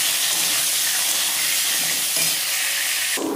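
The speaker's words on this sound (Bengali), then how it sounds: "মাংসের পেঁয়াজ ভাজছি" Onions frying for a meat curry in a home kitchen: a loud, steady sizzle and hiss close by, running continuously with a brief stirring shift near the end, no talking.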